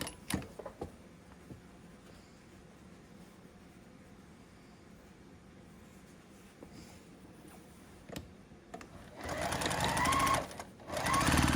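A sewing machine stitches across a fabric basket lining with right sides together, running softly and steadily at first, then loudly and quickly in a fast stretch near the end.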